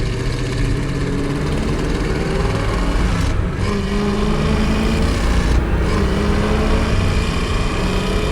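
A 1966 Chevrolet Impala with a crate 350 engine, EFI and a five-speed drones steadily and loudly under throttle while driving, a continuous close engine roar with no pauses.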